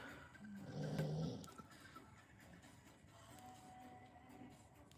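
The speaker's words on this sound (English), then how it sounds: "I can hear your dog snoring." A dog snores softly nearby, a low rasping breath swelling in the first second or so, then quieter breathing noise with no talking.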